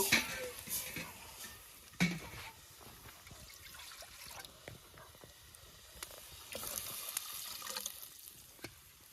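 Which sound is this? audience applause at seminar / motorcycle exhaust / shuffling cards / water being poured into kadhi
water being poured into kadhi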